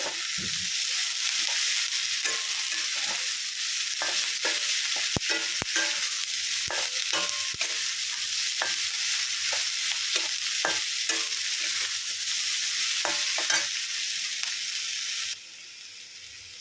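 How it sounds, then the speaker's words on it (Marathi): Capsicum (shimla mirch) stir-frying in a pan for a vegetable dish, giving a steady, close sizzle with repeated scraping clicks of stirring throughout, dropping quieter near the end. "तर आपण यामध्ये आता शिमला मिरची टाकून देणार आहोत. छान अशी परतून देणार आहोत."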